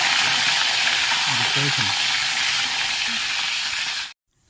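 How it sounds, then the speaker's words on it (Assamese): Loud, continuous sizzling of paneer frying in a hot pan, with faint clinks underneath, then the hiss cuts off abruptly. "মই এনেকৈ সকলোখিনি পনীৰ ভাজি ল'ম।"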